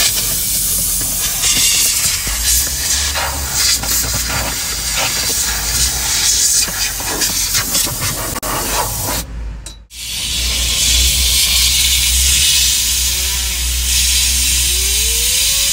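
Compressed air hisses loudly and steadily while blowing out the AC evaporator of a Toyota during cleaning, a continuous spraying rush that cuts out briefly midway and then resumes.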